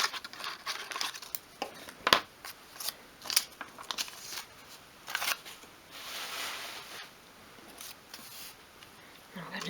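Scissors cut out a small printed paper label, giving quiet, close snips and crinkling paper spread over several seconds, with a few sharper cuts and soft handling sounds between them.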